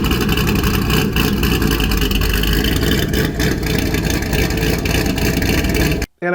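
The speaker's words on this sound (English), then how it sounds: "I just want to hear the engine and the supercharger." A supercharged C5 Corvette engine runs loud and steady at close range, a continuous dense roar with a faint whine layered over it, cutting off abruptly near the end.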